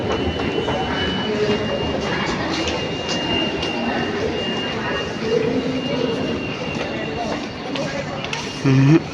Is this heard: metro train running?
yes